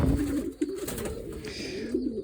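Young racing pigeons coo in a loft at a sports pigeon breeding farm, a continuous low warbling chorus of several birds close by, with soft rustling and no talk.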